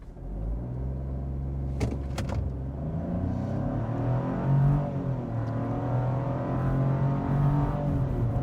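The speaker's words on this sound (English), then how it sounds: "Basically, you just floor it and it should just go." A 2025 Chevrolet Trax RS small SUV pulls hard at full throttle with no sport mode, its engine drone rising steadily and shifting near 5,800 RPM, loud and close inside the cabin with a couple of brief clicks early on.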